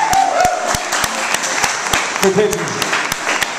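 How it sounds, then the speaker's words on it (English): An audience at a live Irish music concert at the Irish Center in Phoenix, Arizona claps steadily, with sharp individual claps standing out near the microphone while someone briefly speaks. "massive round of applause"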